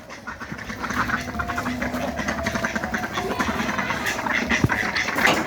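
Scattered duck quacks rise from a noisy outdoor scene, fairly faint and irregular, mixed with rustling and low background noise, after the ducks were chased by a dog and scattered.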